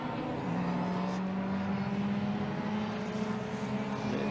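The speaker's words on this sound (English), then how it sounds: "Toyota Celica here. Which is 46B, which is a car driven by Sarah Hobson." Toyota Celica racing car, number 46B, in a 750 Motor Club Birkett relay race at Silverstone, about 20 years old: a steady, loud engine drone with a sustained low tone that holds throughout, no talk.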